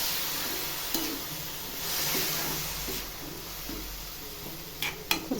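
Chopped ash gourd sizzles in a hot pan for a Kerala-style curry made without fish. A steady, close frying hiss runs throughout, broken by soft scrapes of stirring and a few light clicks.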